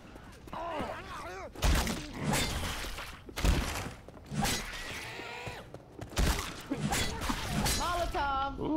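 A Molotov cocktail shatters in Left 4 Dead 2 amid zombie groans and combat thuds, with sharp glassy bursts standing out over players chatting throughout.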